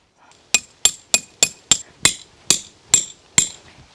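A hammer strikes repeatedly at a campsite in Jeju while building a DIY fire pit: about nine sharp, close metallic blows in an uneven rhythm, clear against a quiet background.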